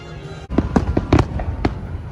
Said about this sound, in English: these fireworks are going to be going on again at midnight